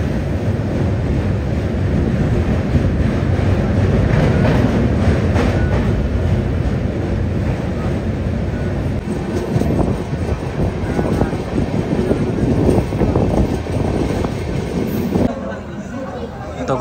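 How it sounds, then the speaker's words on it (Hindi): Passenger train running on the line out of Pandit Deen Dayal Upadhyaya junction, a loud continuous rumble and rattle heard from inside the coach with rhythmic clatter, background chatter, and a sudden drop in noise near the end. "अभी हमारी जो ट्रेन है वो पंडित दीनदयाल उपाध्याय से निकल चुकी है"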